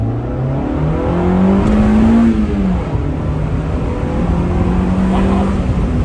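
A 1995 Honda Civic Del Sol Si with a five-speed accelerating, its engine note climbing steadily in pitch through the gears, loud and close from inside the car, with no talking.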